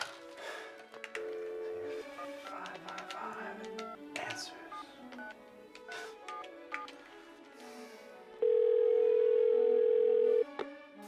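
Phone booth telephone: a series of keypad tones and clicks over background sounds, then a loud, steady continuous dial tone holding for about two seconds before cutting off.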